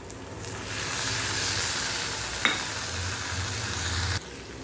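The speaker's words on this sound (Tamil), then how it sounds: "வெங்காயம் நல்லா வதங்கிடுச்சு. இப்போ இந்த காயை சேர்த்துக்குவோம்." Onions and vegetables for a chapati stuffing sauté in a pan, giving a continuous close sizzling hiss, steady and fairly loud, with a single sharp clink partway through before the sound drops away near the end.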